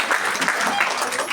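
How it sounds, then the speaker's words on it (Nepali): Applause at a church ladies' fellowship gathering: a dense, continuous burst of clapping from a crowd, close and fairly loud, lasting about a second. "सुसम्मानमा जोड्दा ताली"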